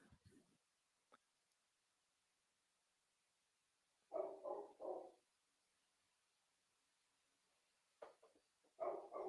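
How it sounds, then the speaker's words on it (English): Pet dogs barking in a room, two short clusters of two or three barks each a few seconds apart, heard from a little distance in an otherwise quiet space. "My dogs are providing some ambient noise in the background"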